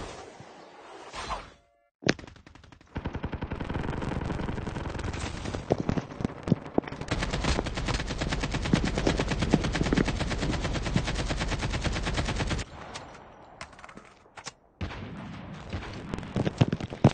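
Gunfire in the Call of Duty Mobile video game: a long, dense burst of rapid automatic fire rattles on for several seconds, framed by scattered single shots and brief quiet gaps, with no talk.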